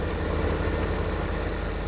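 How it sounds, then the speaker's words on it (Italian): A New Holland tractor engine idles in Farming Simulator 15, a steady low throbbing rumble with even mechanical pulsing, continuous and close throughout with no talk. "Vi piace il nostro New Holland? Guarda quanto è bello il mio nuovo trattore!"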